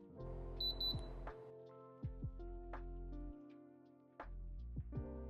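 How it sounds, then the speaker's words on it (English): A Brio Plus 7-quart air fryer gives a pair of short electronic beeps over faint tonal background sounds, near and alone without talk. "The unit will beep twice, indicating the selected wattage has been locked in."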